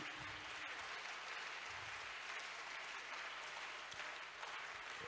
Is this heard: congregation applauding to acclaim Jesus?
yes